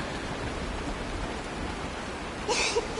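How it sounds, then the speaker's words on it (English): Continuous rain in the Honkai: Star Rail video game, a soft, even hiss of falling water, with a couple of faint brighter splashes near the end and no voices. "It is raining! It's true!"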